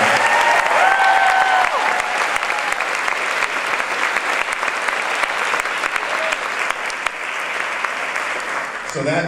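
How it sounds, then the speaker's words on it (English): An audience at a speech breaks into loud, sustained applause, dense clapping that carries on steadily for several seconds before cutting off. "Let's give them a round of applause."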